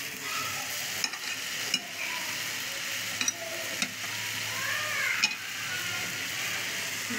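Pangas fish pieces go one by one into a fish curry, which sizzles and bubbles steadily at moderate volume, with a few sharp clinks and taps scattered through.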